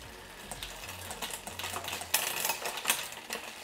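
A SRAM Force AXS wireless electronic rear derailleur on a Trek Emonda road bike shifts poorly, making a rapid run of dry clicks and ticks with a brief motor whir, close up and fairly quiet.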